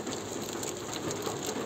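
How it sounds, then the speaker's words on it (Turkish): Steady rain drumming on a caravan roof during a storm, a dense continuous patter of drops held at an even level throughout, with no voices. "Yağmur yağıyor dışarıda, fırtına var"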